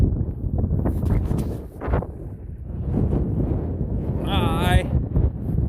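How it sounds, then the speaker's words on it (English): Wind gusting across open farm ground near cattle, a steady broadband rush buffeting the microphone throughout, with a voice talking over it. "Windy out."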